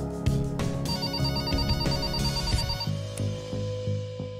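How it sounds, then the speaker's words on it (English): A telephone rings in the video game The Retry, with repeated electronic bell-like trills that cycle in a steady rhythm over quiet game music. Near and clear, with no talk. "The phone is ringing."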